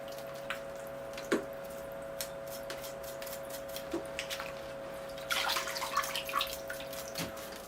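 Water runs and splashes as soil is washed from the roots of a Thuja bonsai, a faint trickle with scattered drips and a brief louder spatter, over a steady low electrical hum.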